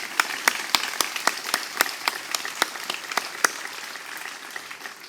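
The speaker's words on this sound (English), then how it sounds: "Applause are necessary here." Applause for the class valedictorian at a 2016 graduation ceremony at Frederica Academy: a crowd claps steadily for several seconds with distinct individual claps standing out, then the clapping thins toward the end.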